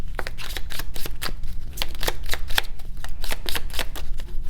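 Lenormand cards being shuffled by hand, a rapid run of crisp riffling and slapping bursts, close and continuous with no talking.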